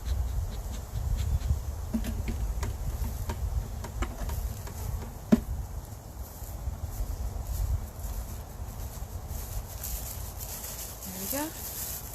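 Honey bees swarm around a backyard hive, their dense, steady buzzing filling the air up close for the whole stretch, with a few faint clicks and a brief knock partway through.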